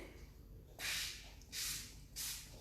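Plastic spray bottle squirting water in three quick, hissy bursts, close and fairly quiet, evenly spaced, during a children's activity.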